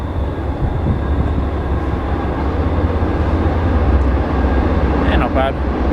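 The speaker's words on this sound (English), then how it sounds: "We got a coal train." A coal train hauling empty hoppers rolls past with a continuous, steady rumble, a voice talking faintly over it.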